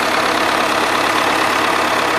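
Close and loud, a DT-75 crawler tractor engine runs steadily with a knocking fault, a constant mechanical drone with no speech over it.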